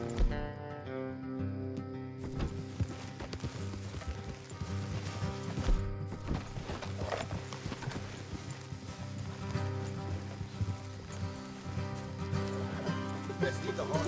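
Rhythmic hoofbeats of horses in the video game Red Dead Redemption 2 clip-clop steadily under a layer of music and ambient noise, with a faint whinny mixed in.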